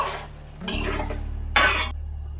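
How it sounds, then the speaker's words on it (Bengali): A thick chana paneer masala paste is stirred and fried in a pan after spice-rinse water is added, with two loud bursts of sizzling and scraping against a low steady background hum. "এবার আমি এই মশলা ধোয়া জলটা দিয়ে দেব আর একটু কষিয়ে নেব"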